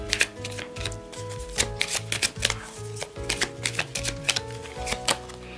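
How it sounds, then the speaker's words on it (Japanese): Oracle cards being shuffled and drawn, giving a rapid run of crisp papery flicks and slaps in an uneven rhythm, close and fairly loud, with a steady low musical background underneath and no talking. "はい、オラクルカードも引いてみたいと思いますね。"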